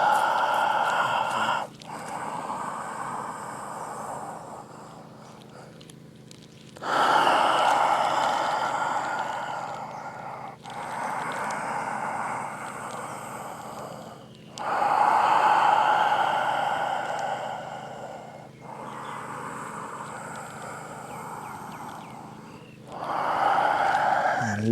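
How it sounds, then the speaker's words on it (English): Slow, deep Ujjayi breaths taken during a power yoga flow, each long audible inhale and exhale rising and falling in a steady cycle, close and fairly loud with brief pauses between. "Taking 3 Ujjayi breaths."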